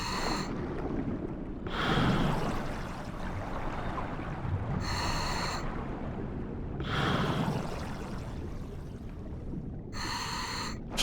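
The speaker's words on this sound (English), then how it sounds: "Wish I could turn the breathing sound off." A character in Grand Theft Auto V breathes heavily and repeatedly, with slow rhythmic sighing inhales and exhales recurring every couple of seconds, close and steady over a low ambient bed, with no talk.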